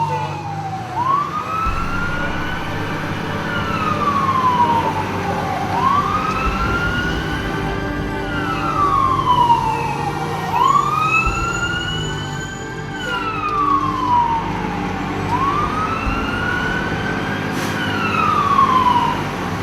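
A fire engine responding to an EMS call wails with a rising-and-falling siren that cycles several times, loud and fairly close, over a low rumble of truck engine and road noise.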